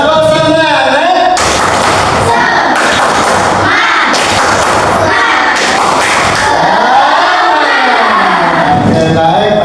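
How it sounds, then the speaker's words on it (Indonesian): Classroom audience applauding during a school teaching session, loud dense clapping and cheering from a crowd that swells in bursts, with voices mixed in. "semuanya tepuk tangan"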